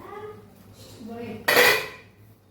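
A steamer lid lifts open on a batch of instant moong dal idli, giving one loud metallic clatter of pots after soft kitchen handling noises.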